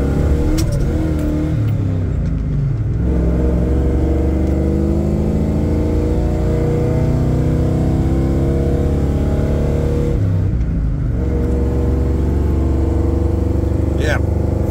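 A Ford 460 EFI four-wheel-drive dually truck with a stage 1 cam and 1.8 ratio roller rockers, its V8 revving loudly up and down in repeated sweeps close by, with people talking over it.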